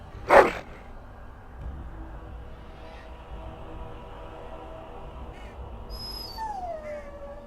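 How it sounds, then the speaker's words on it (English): A Mabari war dog in the Dragon Age Origins video game gives one short, loud bark near the start, followed by quieter game ambience and a faint bird-like caw toward the end. "Good-looking Mabari you have there."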